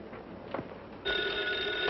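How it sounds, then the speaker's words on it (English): An old-style telephone bell starts ringing partway through the clip, clear and sustained, after a short stretch of quiet room noise. "Excuse me, I'll have to get the phone."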